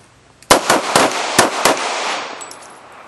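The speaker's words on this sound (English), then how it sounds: "Turn, draw, and shoot." Five sharp pistol shots fired in a practical pistol turn-draw-and-shoot drill, loud and close, in an uneven quick string followed by a decaying ring and quiet tail.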